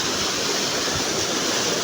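The Jaljale waterfall near Pokhara pours into a natural rock pool, a dense, continuous rushing roar heard close up and loud, with no voices over it.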